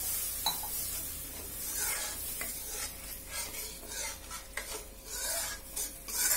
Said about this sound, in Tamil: இது நல்லா ஒரு 2-3 நிமிஷம் கொதிக்கட்டும்